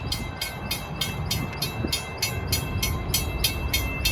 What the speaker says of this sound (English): And there's the other 12th Avenue having their train going by.